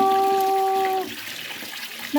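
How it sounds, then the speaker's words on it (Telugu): Water is poured into a new clay pot, a steady ringing pour lasting about a second before it stops, followed by quieter handling noise and a short splash at the end. "దీని నిండా వాటర్ వేసేసి బాగా నానాలి"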